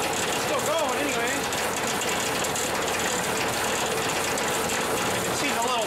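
A mechanical sweeper runs with its small pins rattling, giving a steady, dense ratcheting clatter that carries on without a break.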